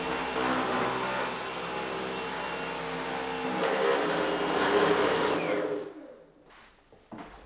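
A Dyson V11 Absolute cordless vacuum cleaner running in eco mode on a rug gives off a steady, close motor whine with a strong high tone, then cuts off and leaves near silence with a faint click.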